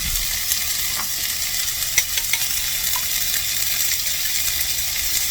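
Eggs are stirred and scrambled in a hot pan, giving a steady sizzling hiss with scattered scraping ticks and small clicks of the utensil, close up with no talking.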